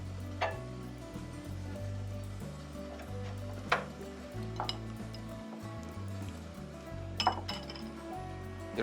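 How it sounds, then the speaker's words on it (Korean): Spicy Korean pork, jeyuk-gui, cooks in a pan over low heat, with a quiet steady sizzle under a low background hum and a few sharp clinks of a utensil against the pan. "이 차 구이 시엔 약한 불에서 앞뒤로 1분 정도 익혀주세요"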